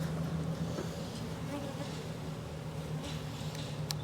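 Honey bees buzz around an opened hive during an inspection, a soft steady hum close by with faint handling noises and a brief sharp click near the end.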